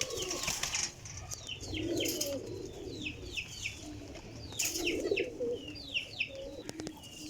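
Teddy Golden pigeons flying, with repeated soft wing flaps and low coos close by, faint and uneven over a quiet outdoor background.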